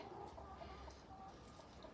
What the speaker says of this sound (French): on se retrouve avec mes poules